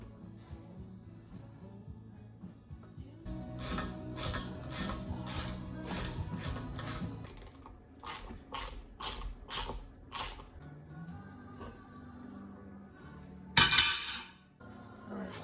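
Ratchet or wrench clicking in rapid bursts while loosening the sprocket nuts on a 1986 Suzuki GSX-R 750, close and fairly loud, with several pauses and a sharp clank near the end.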